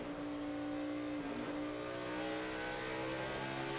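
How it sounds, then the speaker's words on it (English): A NASCAR Nationwide race car engine drones steadily on a road course during practice at Watkins Glen, the driver working the throttle with a slight pitch change midway, heard fairly faint and continuous without talk. "You can hear him playing with the throttle."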